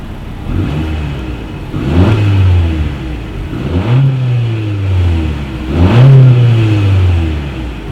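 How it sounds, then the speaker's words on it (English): 2018 Honda CR-V exhaust revved from idle in four distinct blips, each climbing quickly then settling back to a low, steady hum, heard close and clear. "here is that exhaust clip"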